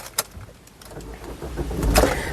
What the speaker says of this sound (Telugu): ఒకసారి ఈ కారు సింగిల్ సెల్ఫ్లో స్టార్ట్ అవుతుందా లేదా అన్న చూపిస్తున్నాను చూడొచ్చండి